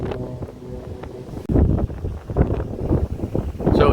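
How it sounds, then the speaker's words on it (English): Strong outdoor wind buffeting the microphone on a high overlook near the old Morrell estate, with a low rumbling roar that surges and gusts continuously. "But this wind is really killing me. hoping the audio isn't too bad."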